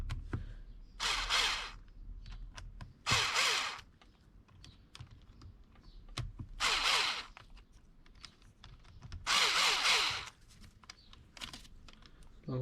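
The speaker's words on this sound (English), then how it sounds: "and then just tighten the screws" Screws being tightened on an Arrma Kraton 8S 1/5 scale RC car, with close clicking and short scratchy bursts of a driver turning in spurts, separated by quiet pauses.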